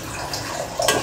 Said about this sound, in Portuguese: botar água pra mim